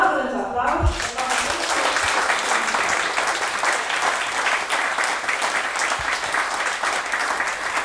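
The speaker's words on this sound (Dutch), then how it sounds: "Dat doen we vanavond met een daverend applaus." A council chamber in Alphen aan den Rijn breaks into hearty applause after brief talk at the start, the dense clapping sustained and close throughout.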